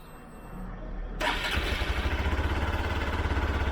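A Hero Xpulse 200 4V motorcycle cranks and catches after a quiet stretch, then settles into a steady, close, even idle with a smooth rhythmic pulse.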